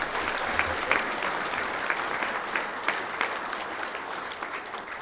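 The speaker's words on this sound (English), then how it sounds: "Please give them another round of applause." A full round of applause from a convention crowd at a Lions Australia gathering, honoring young state finalists, dense and sustained clapping that fills the room evenly from start to finish.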